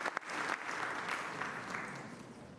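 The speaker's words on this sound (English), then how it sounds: "Please, can we give Candace another round of applause for that amazing speech she gave?" An audience applauds at a scholarship awards ceremony, a steady, fairly faint round of clapping lasting a couple of seconds.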